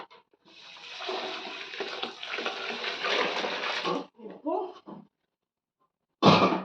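Water is measured and poured into a pot for Hyderabadi biryani, a loud splashing pour lasting several seconds, followed by a few shorter splashes and a brief final clatter.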